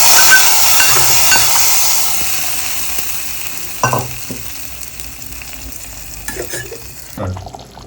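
Fried vathal is stirred into vatha kulambu in a pan: a loud, hissing sizzle fades over the first seconds, then a few scraping, clinking stirs of the spoon follow close by.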